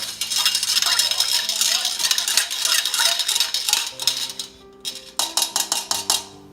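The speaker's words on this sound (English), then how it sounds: "I'm gonna go ahead and mix that some more." A spoon scrapes and clinks against a bowl while mixing a mashed potato dish, first as a steady clatter and then as a run of sharper separate clinks toward the end. No one speaks.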